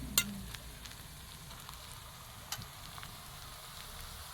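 Soft, steady sizzling of a spice tempering frying in a pan outdoors, with faint crackles and a couple of sharp pops, no voices.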